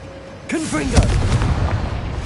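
A Confringo blasting spell fired in Hogwarts Legacy: a spoken incantation followed by a loud, close booming blast that rolls into a sustained rumbling tail of debris and crackle.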